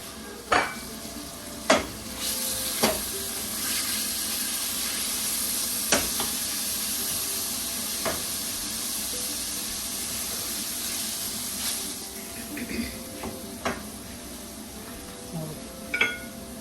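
Meat sizzling in a pan as the base of a tomato sauce, a steady hiss broken by repeated clinks of a utensil against the pan.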